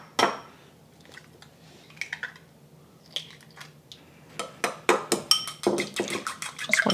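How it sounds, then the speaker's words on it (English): Three eggs are beaten in a bowl. A few scattered taps come first, then a quick run of close, sharp clinks and sloshing strokes. "I'm also going to beat 3 eggs."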